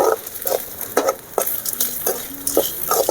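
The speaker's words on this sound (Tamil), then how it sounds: "தேவையான அளவுக்கு உப்பை போட்டு நல்லா இந்த மாதிரி வதக்கி எடுத்துகிட்டு" Onions sautéing with salt in a pan for Kerala ulli vadai, a soft continuous sizzle broken by several sharp scraping stirs of a spoon against the pan, close and without talk.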